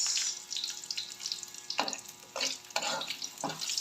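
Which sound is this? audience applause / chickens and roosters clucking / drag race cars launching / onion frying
onion frying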